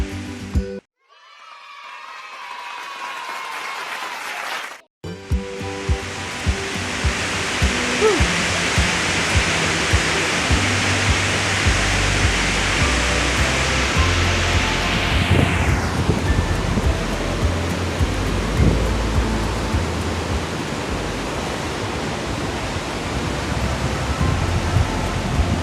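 Kedabuhan waterfall in Subulussalam roars as a steady, loud broadband rush of falling water heard close up, continuous and unbroken after a brief quiet start.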